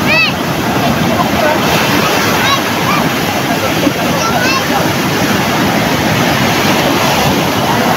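Ocean waves wash and roar continuously, loud and close, with gusty wind noise and faint chirping sounds over the surf.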